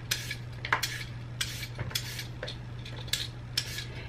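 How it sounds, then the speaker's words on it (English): Fresh cucumber being peeled in a home kitchen, a steady series of short scraping strokes of the peeler, close and quiet over a low background hum. "I'm just going to go ahead and peel my cucumber"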